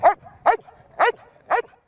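A hyperactive, energetic police detection dog used in anti-narcotics and mine detection barks four times in an even rhythm, close and loud, with brief quiet gaps between barks.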